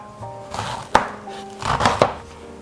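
A kitchen knife chops vegetables on a cutting board while a clear suki-style soup is being made, with a few sharp, close strikes among softer cutting scrapes and no talk.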